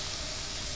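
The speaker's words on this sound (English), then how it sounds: "I mean the sizzle. It sounds like bacon" Gravy sizzles like frying bacon in the video game Scarlet Hollow, a dense, steady hiss filling the whole moment, loud and unbroken with no talk over it.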